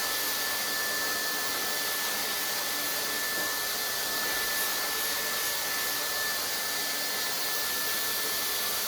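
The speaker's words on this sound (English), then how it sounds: "The pre-blow dry will be done throughout the head." A hair dryer blows steadily at the roots throughout a client's head during a pre-blow dry, a loud, continuous close-up whoosh with no talking.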